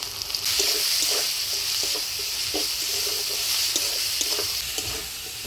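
Onion, crushed garlic, and ground spice paste of coriander, cumin, ginger and chilli fry in a pan, a loud steady sizzle broken by repeated stirring scrapes and clinks of the spatula, close up.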